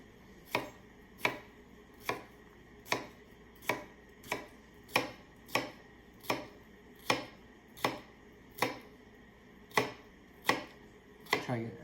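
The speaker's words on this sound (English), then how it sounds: "we're gonna go ahead and start dicing our cucumber" A knife dices cucumber on a board in steady, evenly spaced chops, about sixteen crisp close knocks over a quiet background, without talk.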